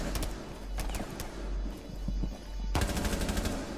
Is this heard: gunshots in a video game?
yes